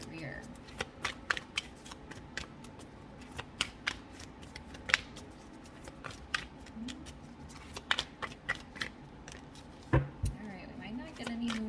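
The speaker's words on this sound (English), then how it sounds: "Let's shuffle a couple more times here" Tarot cards being shuffled in repeated quick riffles and snaps, close up, with soft talking in the background between bursts.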